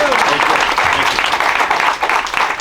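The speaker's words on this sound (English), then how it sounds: "Let's have another round of applause for the conductor" A crowd claps loudly at a ribbon cutting for a newly renovated library children's room, with dense, continuous applause and a few cheering voices mixed in.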